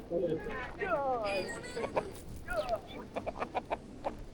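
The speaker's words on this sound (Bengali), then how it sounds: "এটা পাহাড়ের মুরগি" A hill chicken clucks in a few short, close calls, followed by quick repeated clucks, with people talking nearby.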